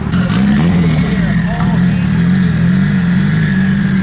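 A Porsche GT3 sports car with a 3.8-litre engine and PDK gearbox idles loudly and steadily nearby at a cars and coffee meet, a deep continuous rumble with a brief blip of throttle.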